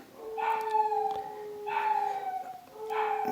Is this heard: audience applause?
no